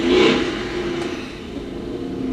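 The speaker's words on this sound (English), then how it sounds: "someone persists on riding their motorcycle. Extra noisy motorcycle." A loud motorcycle roars close by on a city street and then fades slightly as it moves on, a steady engine drone with no voices.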